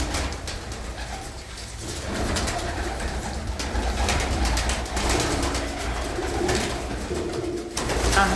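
Pigeons coo steadily at a loft, soft and fairly close, with repeated low throaty calls and light rustling and no talk over them.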